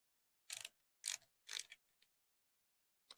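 A ratchet tightens a fuel line bracket bolt on a 2012-2018 Ford Focus 2.0L engine, three short quiet clicking bursts close up, then a faint tick and one more brief burst.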